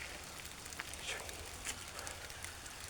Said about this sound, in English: Listen, it's raining. It's raining.